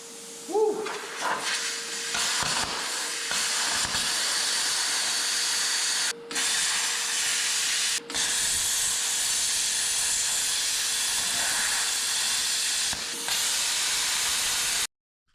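Compressed-air powered cutter slicing through steel plate of a Datsun 510 core support during rust repair, a loud, close, steady pneumatic hiss and grinding whine running for many seconds with two brief pauses before cutting off.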